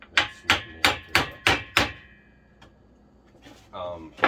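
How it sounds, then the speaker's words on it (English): A mill-faced hammer strikes a steel nail set six times in a steady, loud rhythm while building a heavy-duty workbench from pallet wood, then a quiet pause follows and a voice begins speaking near the end. "I'm using a mill-faced hammer on the nail set"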